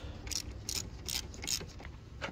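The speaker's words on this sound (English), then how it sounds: "We'll secure that with the same 10 millimeter socket." A ratchet with a 10 mm socket tightens the positive battery terminal on a 2015 Nissan Altima, giving five quick bursts of clicking at a steady, evenly spaced rhythm, close and fairly quiet.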